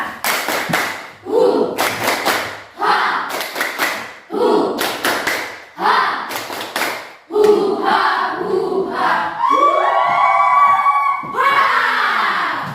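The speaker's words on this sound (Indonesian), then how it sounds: "Ayo teman-teman kita tepuk sumba bersama-sama" Group of students performing the tepuk sumba clapping chant in a classroom, rhythmic bursts of unison clapping alternating with shouted chanted syllables, building to loud sustained group shouting at the end.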